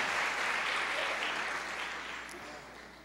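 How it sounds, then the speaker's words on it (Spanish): A church congregation claps for the Lord during a Spanish-language service, a broad wash of many hands at full strength that slowly thins toward the end, with some voices mixed in. "Le damos un aplauso al Señor."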